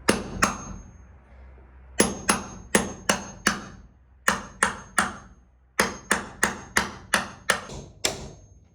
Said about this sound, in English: this is a nicely balanced hammer that was hers too